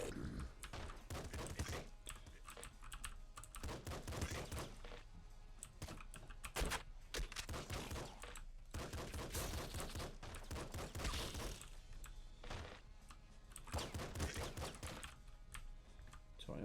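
Rapid, dense bursts of gunfire and bouncing bullets from the game Nuclear Throne, loud and continuous for the full stretch with only brief gaps.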